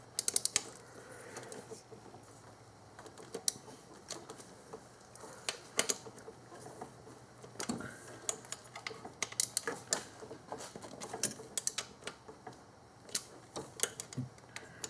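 Ratchet clicking steadily as throttle body bolts are run down on a 2001 Infiniti QX4 during an intake and cooling system rebuild, rapid close metallic ticks with brief pauses between strokes, no talking.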